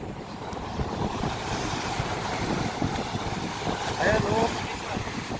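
Sea waves wash against the shore at a blue lagoon while wind buffets the microphone, a steady rough surf with a banana boat nearby; a voice speaks briefly.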